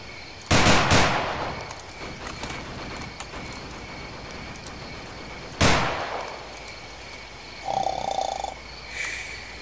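Gunfire in the Battlefield 2 Black Hawk Down mod video game: two sharp, loud broadband bursts, one near the start with a quick double report and another midway, over a steady background hum with a faint tone near the end.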